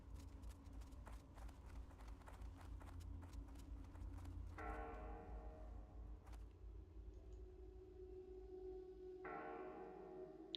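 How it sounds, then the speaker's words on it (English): A church bell tolls in the game LOTRO, with resonant strikes ringing out and sustaining twice over a bed of rhythmic hoof clip-clop and ambient game sound, at moderate distance. "The church bell."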